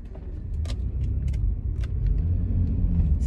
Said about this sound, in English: I'm basically just speeding around this parking lot.